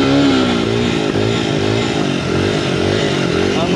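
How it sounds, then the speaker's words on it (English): A Honda XR100 dirt bike spins its rear wheel in a burnout on slippery ground during hill climbing, the engine revving loud and close with a steady, continuous roar that rises and wavers throughout. "I'm doing a burnout."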